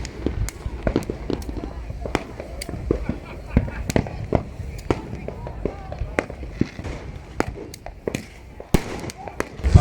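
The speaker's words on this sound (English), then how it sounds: "People shooting fireworks everywhere here." New Year fireworks in Phuket, Thailand: many sharp cracks and bangs popping irregularly nearby and in the distance, dense and continuous, with voices talking in between.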